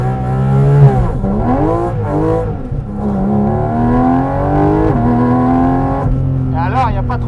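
A McLaren Senna launches from a start line, its engine rising and falling through loud revving sweeps as the tyres spin, heard close from inside the car.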